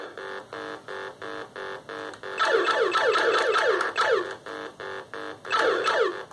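Asteroids game sound on a homemade Atari 2600 clone, a steady pulsing electronic beeping, loud and near, with bursts of harsher buzzy explosion noise coming in twice.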